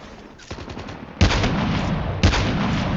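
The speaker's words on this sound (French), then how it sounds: "On va prendre le snipe direct, au moins ça va être réglé, vite fait." Loud gunfire from a sniper rifle rings out in a first-person shooter video game. Two sharp, booming shots land about a second apart, each followed by a sustained roar, after a softer burst at the start.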